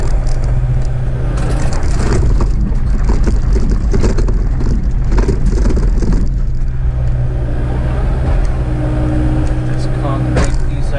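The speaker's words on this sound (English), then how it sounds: "Make enough room I could turn the skid steer around." A skid steer loader's diesel engine runs loud and close with a constant low rumble, while rough scraping and crunching of concrete debris being cleared from a site rises and falls over it.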